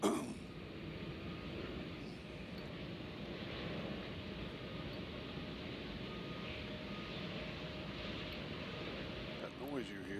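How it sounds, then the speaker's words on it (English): Boeing 757 jet engines at Nashville International Airport, a steady low broadband roar from an aircraft ahead on the ground, heard at moderate distance and fairly faint under wind noise. "That noise you hear is the 757 in front of us."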